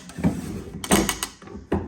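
A wooden furniture drawer slides and knocks, with a few scraping thuds and clunks close by, irregular and brief.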